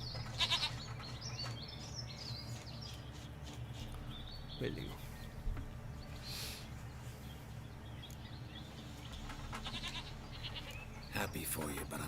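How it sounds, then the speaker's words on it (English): A goat bleats in the video game The Witcher 3: Wild Hunt, with a few short bleats under people talking and game sounds. "Goat of mine, dearest, sweetest goat."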